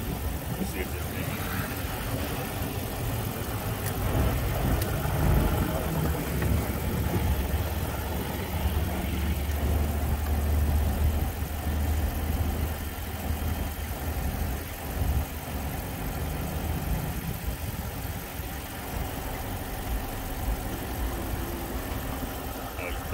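A car with a starting problem runs its engine at a steady mid-pitched idle, close and continuous, with voices talking over it.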